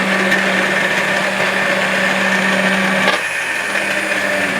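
An electric blender purees potato, turnip and rutabaga soup with a loud, steady motor whine that drops in pitch briefly near the end as the load shifts.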